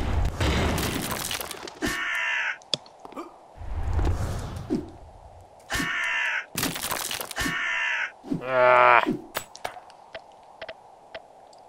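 Crows caw repeatedly in the video game UnEpic, with harsh, loud calls coming in bursts between stretches of game noise.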